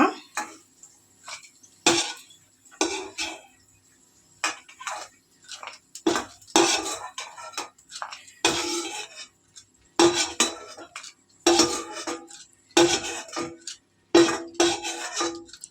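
Roasted nuts being chopped make close, crisp knife taps on a board, coming in quick rhythmic bursts separated by short pauses, with no talking.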